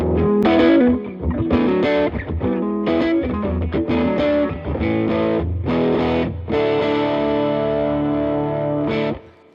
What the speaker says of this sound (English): It's just the standard Les Paul configuration, the two humbuckers in parallel.